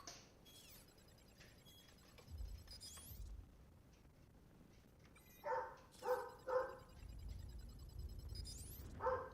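Several dogs bark in bursts indoors, a few sharp barks clustering near the end, moderately close over a steady electronic hum and faint game sounds, with no one talking.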